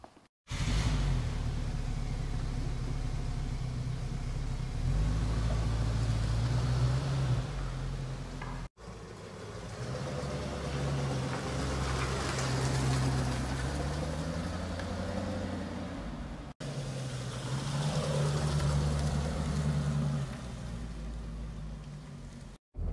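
A 1975 Mercedes 450 SL drives on a road test, its engine a steady low rumble with broad road and wind roar, rising and shifting in pitch across two brief breaks, with no talk.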